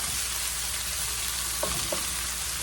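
Food for an enchilada breakfast casserole fries in a pan on a stove, a continuous bright sizzle with a couple of small pops or stirring taps near the end, close and steady.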